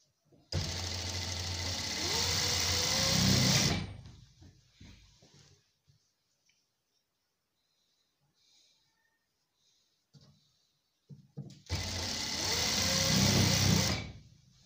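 A sewing machine stitching the folded waistband of a shalwar runs in two loud, steady bursts, one of about three seconds at the start and a shorter one at the end, with near-silence and faint handling sounds in between.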